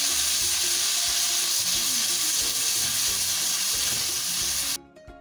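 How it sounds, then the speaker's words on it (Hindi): Chicken chow mein with sauce fries hard on a high flame, a loud, dense sizzle with spitting and crackle that stops abruptly near the end. No one speaks. "सॉस ऐड करके इसे 3 से 4 मिनट के लिए हाई फ्लेम पर पकाएंगे"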